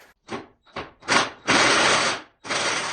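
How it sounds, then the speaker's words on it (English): A 19 mm power wrench removing transmission bracket bolts on a Dodge Stealth / 3000GT with a 6G72 DOHC engine: short ratcheting bursts, then a longer loud whirring run and a final burst, close up. "I'm going to take the 19 millimeters and zap those things off there quick"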